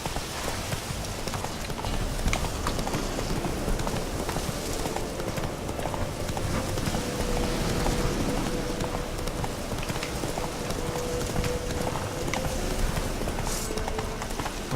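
In The Witcher 3, a horse's hooves clop at a steady running rhythm, fairly faint and continuous, with a rain-like hiss beneath.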